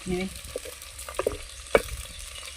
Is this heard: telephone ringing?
no